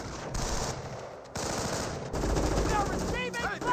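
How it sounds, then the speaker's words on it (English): Machine-gun suppressive fire from a rifleman squad in the real-time strategy game Company of Heroes, sounding as sustained rapid bursts of gunfire with scattered battle noise, loud and fairly close, with a voice briefly over it. "Does use a suppressive fire ability there with the rifleman."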